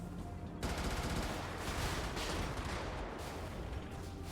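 Heavy booming cannon fire in the Brigador video game erupts in rapid succession, dense and loud, blending into a continuous rumble of artillery-like blasts.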